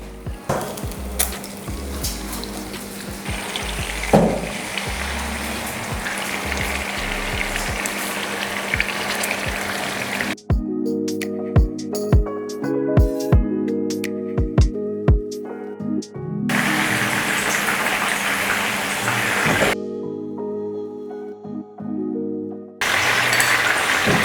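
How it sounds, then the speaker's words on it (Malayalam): Oil sizzles and crackles steadily as marinated chicken pieces fry for chicken angara, with a stretch of music in the middle before the frying sound returns. "മാരിനേറ്റ് ചെയ്ത് വെച്ച ഓരോ ചിക്കൻ പീസ് എടുത്ത് വറുത്തെടുക്കാം"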